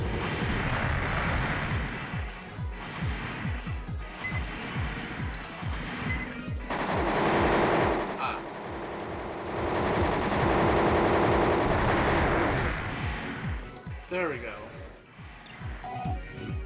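Gun turrets in Armored Core Master of Arena fire rapid rattling bursts of game gunfire, dense and continuous with mechanical booms, while a voice talks over them.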